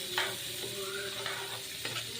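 Shrimp with chopped onion, green chili and tomato sizzle faintly in a pan as a spatula stirs in a few soft scraping strokes, quiet and close, with no talking.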